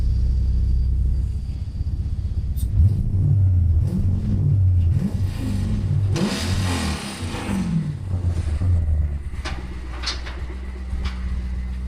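BMW E92 fitted with a V8 engine starts up close by, then gives several deep, rumbling revs that rise and fall before settling back to a lumpy idle.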